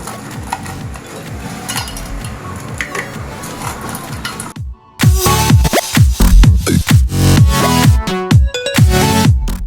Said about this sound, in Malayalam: ഇനി ഇതിലേക്ക് നമ്മൾ നേരത്തെ കഴുകി വെച്ചിട്ടുള്ള ഞണ്ട് ഇട്ട് കൊടുക്കുക.